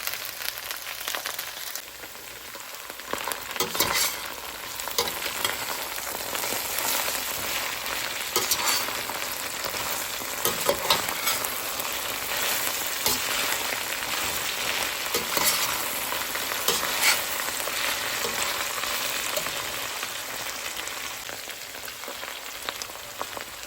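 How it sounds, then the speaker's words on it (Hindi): Okra pieces frying together in a pan, a steady dense sizzle and crackle of hot oil running throughout with occasional stirring scrapes, close and moderately loud. "भिंडी फ्राई हो चुकी है।"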